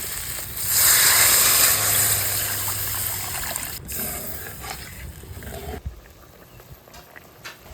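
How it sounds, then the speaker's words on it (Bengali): Water splashes into a hot pan of spiced capsicum and egg masala, a loud sizzling hiss that flares, then gradually settles into quieter bubbling with scattered crackles. "এবার আমি জল দিয়ে দেবো"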